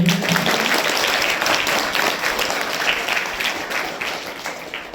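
An audience at a school gathering gives a sustained, dense round of applause for a woman guest, filling the whole stretch at a steady, loud level with no talk over it.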